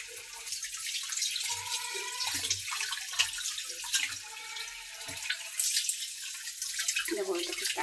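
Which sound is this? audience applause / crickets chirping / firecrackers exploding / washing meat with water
washing meat with water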